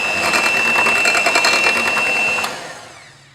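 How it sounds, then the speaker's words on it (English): An electric hand mixer runs steadily on low power, folding flour into a cake batter of beaten egg yolk and sugar, a continuous close whirring hum that fades away at the end. "on low power mix in for a few seconds only"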